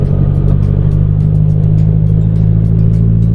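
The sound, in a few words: truck driving on the road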